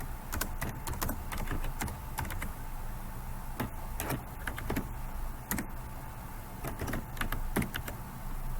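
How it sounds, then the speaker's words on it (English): Quiet, irregular clicks of keys being typed on a computer keyboard, entering text into a Jamboard text box, come in short bursts with pauses and no speech. "You can type your question like this."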